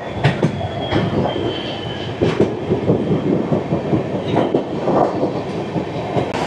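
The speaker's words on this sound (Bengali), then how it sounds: "সাঁইথিয়া জংশনের প্ল্যাটফর্ম নাম্বার 4 আমাদের ট্রেন এখানে থ্রু পার করবে।" The Amrit Bharat Express runs through platform 4 at Sainthia Junction without stopping, a loud, close rumble of wagons with rhythmic wheel clatter and occasional squeals throughout.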